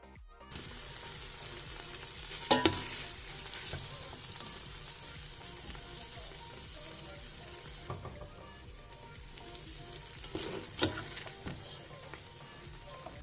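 Meat frying in oil in a pan for Nigerian fried rice, a steady low sizzle running throughout, with a couple of sharper clinks and spatters near the start and toward the end.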